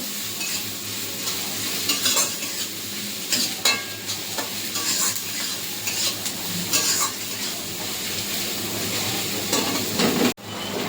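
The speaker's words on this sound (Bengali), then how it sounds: "পেঁয়াজটা একদম অনেকটাই ভাজা ভাজা হয়ে এসছে আর একটু ভেজে আমি মশলা দেবো" Onions sizzle steadily in a hot pan, nearly browned, with recurring scrapes and clinks of a spatula stirring against the metal over the continuous frying hiss; no one speaks.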